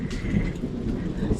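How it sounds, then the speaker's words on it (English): Rain falls steadily with a low rumble of thunder, a dense, moderately loud wash heard close by with no clear speech over it. "Raining."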